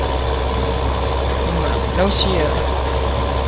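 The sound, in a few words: tractor engine running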